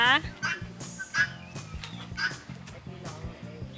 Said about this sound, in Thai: นี่ไก่งวง